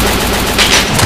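Rapid gunfire from the video game Free Fire rattles loudly and close up in a dense burst of shots lasting about a second.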